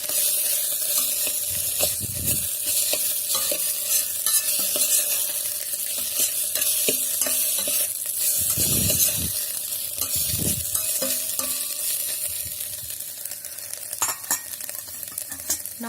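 Scrambled eggs for egg bhurji sizzle and fry inside an electric kettle, a steady crackling hiss with occasional stirring scrapes and bumps, close and loud, with no talk.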